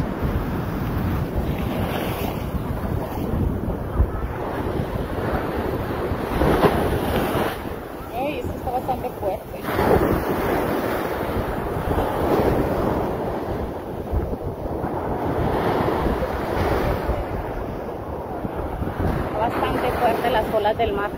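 Sea waves break and wash on the shore in a continuous roar, with steady wind buffeting close to the microphone throughout.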